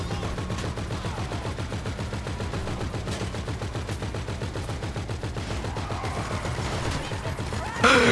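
Rapid automatic gunfire from a video game shootout with police, dense repeated bursts of shots running steadily throughout, with a sharper crash near the end.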